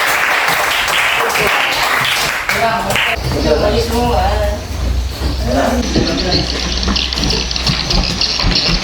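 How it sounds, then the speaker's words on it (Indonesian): Students in a classroom clap for the red group. Close, loud, uneven clapping runs under children's voices and chatter, with a steady background hiss. "Tepuk tangan dulu untuk kelompok merah."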